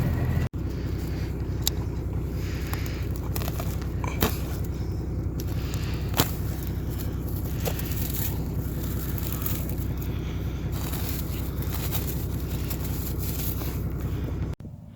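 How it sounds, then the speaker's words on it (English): Old Dodge truck rolls over rough farm ground, its engine a continuous loud drone with rattles and occasional thumps from bumps, wind buffeting throughout, ending abruptly. "Rough riding old Dodge"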